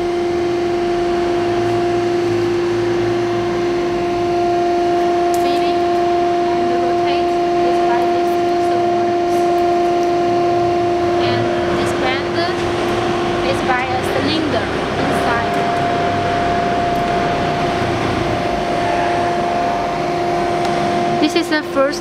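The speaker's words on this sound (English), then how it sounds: "This is a PLC and a touchscreen controlled Lama CNC bending machine." A PLC and touchscreen controlled Lama CNC pipe bending machine with servo-driven feeding and rotation and hydraulic bending runs with a steady loud hum and drone, with mechanical clatter in the middle, while someone talks over it.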